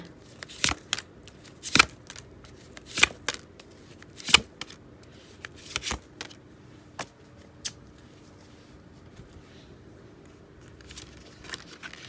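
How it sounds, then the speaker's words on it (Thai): Tarot or playing cards are shuffled and laid out, a series of quick sharp riffling snaps and soft slaps spaced a second or so apart, close and crisp over a quiet room. "ขอจัดไพ่หน่อยนะคะ"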